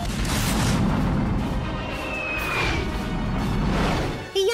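A loud cartoonish boom and rushing whoosh of a cartoon rocket blasting off in Johnny Test, rumbling on for a few seconds before a sudden cut.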